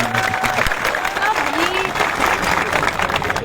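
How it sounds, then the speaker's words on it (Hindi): A crowd gives loud applause to the chief minister at a student protest site. The clapping is dense and sustained, and a few tonal voices or shouts slide through it. "एक बार जोरदार तालियां मुख्यमंत्री।"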